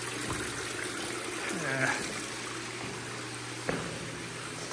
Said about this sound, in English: Bedded screen waterfall